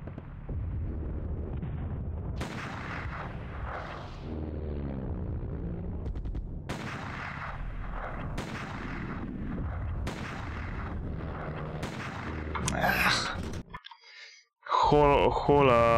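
Gunfire in Hidden and Dangerous, a run of sharp, loud shots spaced irregularly over a steady background rumble, ending in a brief silence followed by a burst of noise.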